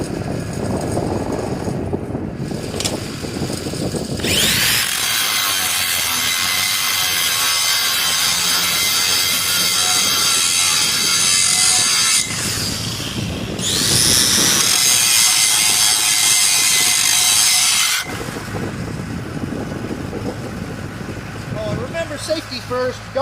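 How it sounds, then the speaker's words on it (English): An angle grinder grinds down a weld bead on a workpiece in loud, close bursts of harsh metallic whine that start, stop and restart, with someone talking in the gaps between runs. "let me go ahead and grind this bead for you guys"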